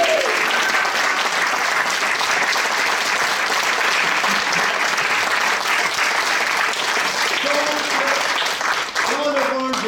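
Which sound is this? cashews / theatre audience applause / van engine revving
theatre audience applause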